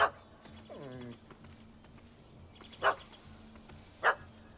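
A dog barks and yelps a few times in The Witcher 3, first a quick whimpering yip, then two sharp, separate barks spaced about a second apart over quiet game ambience.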